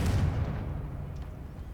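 A Confringo fire spell in Hogwarts Legacy, heard as a single heavy explosive boom that hits hard at the start and decays into a low rumbling tail, with no talking.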